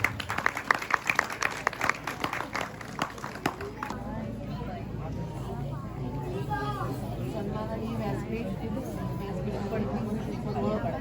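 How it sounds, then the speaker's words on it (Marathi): A village audience at a Konkan festival puja program in Bhablewadi claps in a dense burst for about four seconds, then the applause fades into steady crowd chatter and murmuring voices. "सर्वांनी टाळ्या वाजवायच्या आहेत।"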